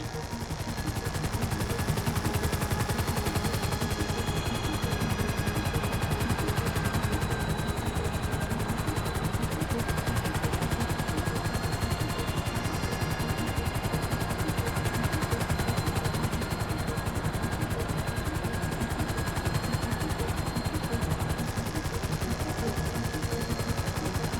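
Sustained automatic gunfire from Grand Theft Auto V, dense and continuous over a steady droning engine layer, likely a helicopter, with rapid bursts running the whole stretch at loud, even level.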